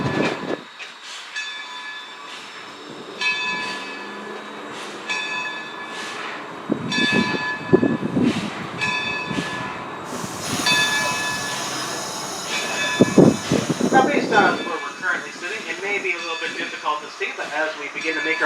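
A heritage passenger train rolls back across a rail bridge at the Steamtown National Historic Site, its wheels rumbling and clattering steadily with occasional squeals, while a voice narrates over the running noise.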